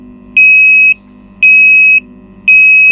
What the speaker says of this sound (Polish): Tu mamy nasz alarm.